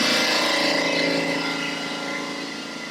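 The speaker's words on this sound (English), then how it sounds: "Oh, compressor's running." An air compressor runs steadily during a plywood and sheet vinyl van build, a loud continuous mechanical drone with a broad hiss that fades slightly over a few seconds, with no talk.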